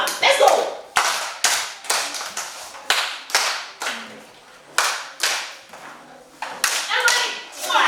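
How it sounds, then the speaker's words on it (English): A class of students gives a rhythmic "love clap", a series of sharp, loud, evenly spaced bursts of clapping about every half second to a second, close by, with no talking over them. "give her a love clap."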